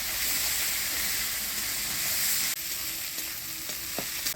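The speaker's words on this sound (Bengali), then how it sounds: "ফোড়নের তেলে নাড়াচাড়া করে নিলাম।" Ground spice paste of ginger, cumin and chilli with turmeric and salt is stirred in hot tempering oil, a loud continuous sizzle and hiss with a sharp change partway through and a few spatula scrapes near the end.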